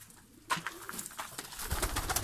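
Ornamental breeding pigeons coo in a loft, soft repeated calls close by, joined partway through by busier fluttering and scraping movement.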